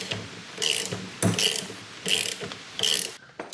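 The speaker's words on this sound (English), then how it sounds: "using your open-ended box wrench to keep tightening this." Close, crisp ratcheting clicks in four short bursts as a wrench tightens the strut nut while assembling a Bilstein 5100 strut for a 2015-2022 Chevrolet Colorado/GMC Canyon, no voices.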